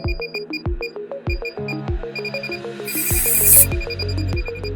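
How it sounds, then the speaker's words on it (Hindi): Gas leak detector near a car radiator outlet giving steady, regularly spaced electronic beeps at its normal rate, loud and close, with no talk. "अभी ये नॉर्मल बीप कर रहा है।"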